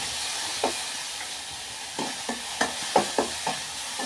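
Mustard seeds sizzle in hot oil in a pan, a soft steady hiss broken by about seven sharp pops and crackles that grow more frequent toward the end, close up and with no voices.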